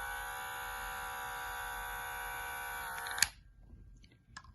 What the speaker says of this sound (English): let's test the noise level of the first one